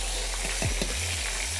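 Soft-shell crab frying in hot oil for tacos, a steady, dense crackling sizzle with a few soft clinks and low thumps over it.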